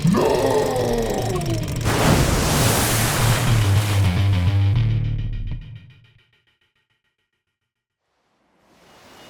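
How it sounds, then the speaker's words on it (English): A cartoon water effect swells into a loud, rushing roar after a lifeboat is dropped from a haunted houseboat, holding strong for several seconds before cutting off to silence, with a faint rumble returning at the end. "Water crescendo!"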